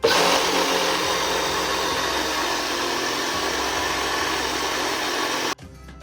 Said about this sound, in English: Okay, so now I'm going to put the blender on